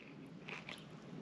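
Cheese being chewed close to the mic, a faint, brief moist bite and a couple of soft chewing sounds against a quiet background.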